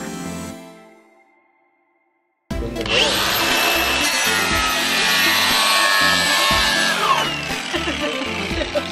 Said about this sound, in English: But anyways, guys, I'm just gonna continue on sanding here.